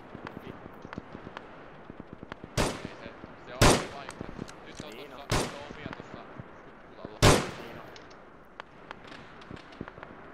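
Enemy machine gun in Arma 3 heard as distant crackling shots with four louder, sharper bursts spaced a second or two apart, echoing over a quiet field.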